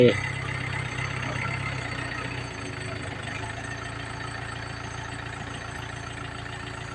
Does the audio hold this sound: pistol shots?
no